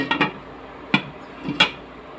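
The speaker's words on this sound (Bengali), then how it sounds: "ডাকনা দিয়ে ঢেকে দিব" A metal lid set down on a pan while cooking hilsa fish with radish and eggplant, giving three sharp clanking contacts: a double clatter at the start, then two distinct clinks close by, with no talk.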